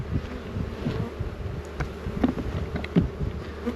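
Honey bees drone from an opened hive kept among cantaloupes, a dense close buzzing with individual insects rising and passing near, no talk.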